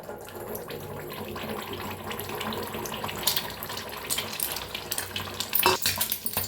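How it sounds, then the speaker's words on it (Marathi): Egg frying in hot oil in a kadai, a continuous crackling sizzle with watery spattering and a few louder scraping bursts near the end, close and without talk. "आता चांगली गरम झालेली आहे तेल बी गरम झालं आहे त्याच्यात हे अंडा असं"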